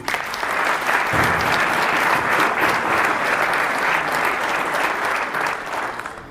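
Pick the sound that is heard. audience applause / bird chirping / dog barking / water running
audience applause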